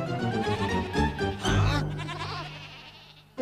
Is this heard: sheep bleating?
yes